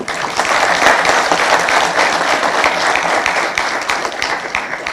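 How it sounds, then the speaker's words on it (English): An audience at the Cyber Week Africa 2024 conference applauds the panelists with a full, steady round of clapping that stays loud and dense for several seconds, with no break. "join me in giving a round of applause to the panelists"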